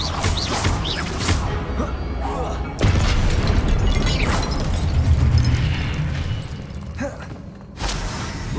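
A Confringo blasting spell explodes in the video game Hogwarts Legacy: a loud, booming burst around the third second swells into a sustained rumbling blast, with game sounds and a voice nearby before and after.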